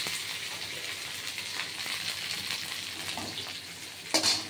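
Malabar spinach (pui shak) with chillies frying in hot oil, a steady close crackling sizzle running throughout, with a few stirring clatters and a brief sharp burst near the end.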